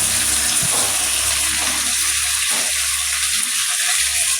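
Chopped tomatoes are added to sautéed onions in a pan for a pasta dish, and a steady loud sizzle of frying runs throughout with faint stirring scrapes and no talk.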